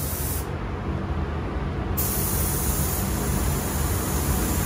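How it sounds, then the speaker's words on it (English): Spray gun laying a coat of paint on the fender of a 1966 Comet, a loud close continuous hiss of atomized spray that cuts in sharply and holds steady, with no talking over it. "I want you to put a coat on the top of this fender, because remember we painted the same color on this hood"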